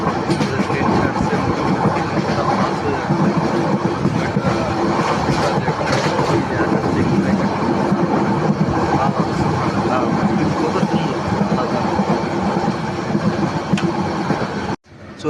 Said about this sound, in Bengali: ফেনীতে আছে বর্তমানে, ট্রেন ছাড়ছে